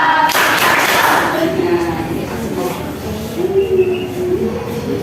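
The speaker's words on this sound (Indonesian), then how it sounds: "Tepuk lagi sambil nyanyi ya." Children clap their hands together during a singing game in a classroom, a dense burst of clapping near the start, then softer claps mixed with children's singing and talk.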